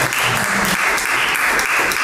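Audience applause at an industrial development conference, a dense, loud wash of many hands clapping steadily and close by, with no talk over it.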